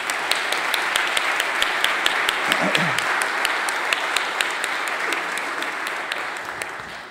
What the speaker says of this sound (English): I think we might be able to clap at this point.